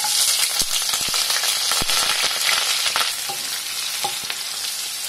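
Onions frying in a pan for a goat lungs pepper fry, loud close sizzling with frequent sharp scraping and clattering strokes from stirring, continuous throughout with no speech.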